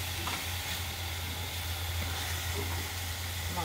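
Ingredients stir-fry in a pan with a steady, faint sizzle and hiss, plus a low continuous hum from the kitchen beneath it, and no talking.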